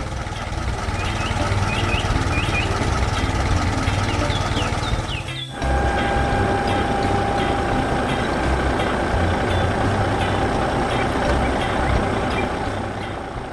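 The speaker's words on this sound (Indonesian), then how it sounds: "Traktor ungu bekerja keras di ladang, di sekeliling pagar kayu," A purple tractor works a farm field beside a wooden fence and barn, its engine droning steadily and loudly throughout with a brief dip partway, and a few faint chirps early on.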